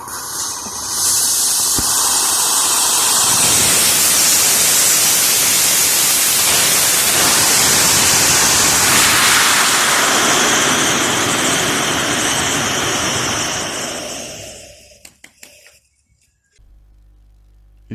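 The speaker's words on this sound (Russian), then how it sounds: "Вот и прошли испытания ракетного двигателя с прошлого видео." A homemade solid-propellant rocket motor fires in a loud, steady roaring hiss for about thirteen seconds, then sputters with a few bursts and cuts out, ending in near silence.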